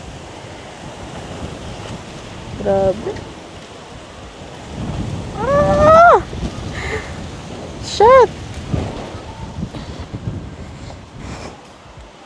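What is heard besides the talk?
strong wind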